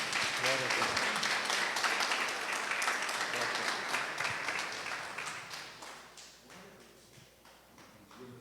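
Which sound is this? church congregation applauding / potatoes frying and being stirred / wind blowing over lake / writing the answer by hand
church congregation applauding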